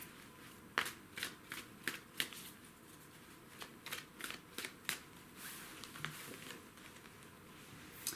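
Tarot cards are shuffled and laid out on a surface, making soft, crisp flicks and snaps in an irregular rhythm. The sounds are faint and close, with no talking.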